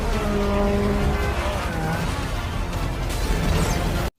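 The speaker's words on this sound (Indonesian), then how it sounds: "Kecelakaan motor pun tidak terelakkan" A motorcycle chase ending in a crash in the Black Widow film: a loud roaring engine with tire squeal and skidding, building into a jolting collision before cutting off abruptly.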